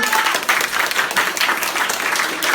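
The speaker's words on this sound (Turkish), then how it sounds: "Görkem'e bir de bir alkış" A school class of 8th graders applauds a classmate, thick, sustained clapping from many hands at close range, steady and loud for the whole stretch with no clear talk.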